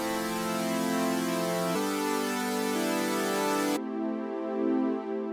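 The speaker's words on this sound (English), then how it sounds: "This could be a super saw, which is used to voice thick chords," Bright, buzzy super saw synthesizer chords ring out thick and sustained, shifting to new chords twice, loud and with no voices.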